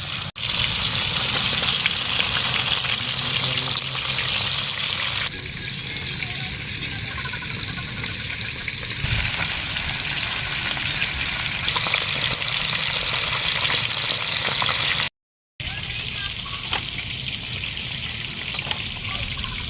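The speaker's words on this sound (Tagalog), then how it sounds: "Prito tayo ng tilapia." Steady hissing and crackling of tilapia frying in hot oil, continuous and close, with a brief cut near the end.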